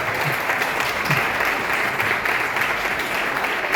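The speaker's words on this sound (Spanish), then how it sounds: "un fuerte aplauso para ella" Loud, sustained applause from a sizable audience at a book fair, a dense wash of clapping that holds steady without pause.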